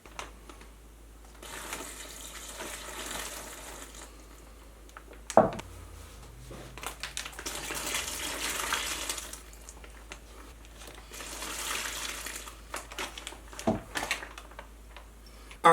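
Water is poured in bursts into a shiitake mushroom grow bag, with two main trickling pours separated by quieter pauses and sharp plastic bag crinkles and knocks close by.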